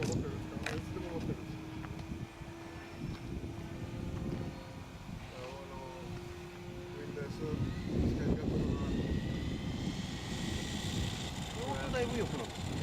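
Engine drone of a P-19 model aircraft flying overhead, a steady buzzing that rises and fades as the plane passes at a distance, with wind noise and people chatting nearby throughout.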